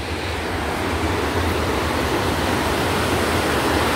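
Water roars through the open gates of the Engenheiro Ávidos dam in a loud, continuous rush, a dense wall of spray and churn with no voices.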